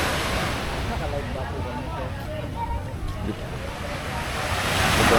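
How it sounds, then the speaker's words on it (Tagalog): Sea surf washing onto the shore at a fishing boat landing beside a seafood market in Naic, Cavite, a steady broadband wash with wind buffeting the microphone and indistinct voices beneath. "Ito ang lapit na sa dagat."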